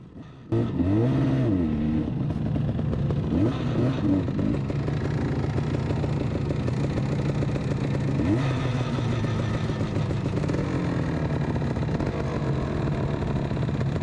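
A 1970s Yamaha RD250 two-stroke twin motorcycle with digital ignition being ridden, its engine droning steadily with rising and falling revs throughout, loud and close with no talk.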